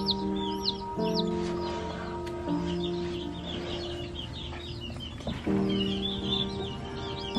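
Frizzle chickens in a brooder make soft clucks and high peeping chirps under a steady hum of brooder equipment, close by and continuous with no talking.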